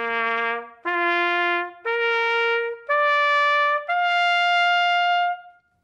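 A trumpet played without valves sounds five sustained natural notes, each one stepping higher in a rising series, clear and close with short breaks between them.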